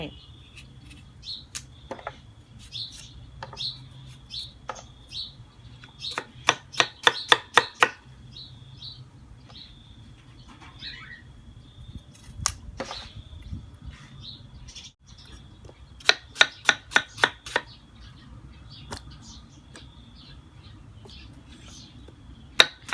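A knife chops through a firm wax gourd on a board in quick clustered bursts of sharp taps, with pauses and faint background chirps.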